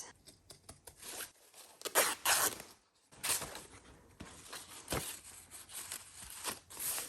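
Scissors cutting paper for a journal page: a series of short snips and crisp crinkling scrapes at close range, quiet and irregular, with a brief pause midway.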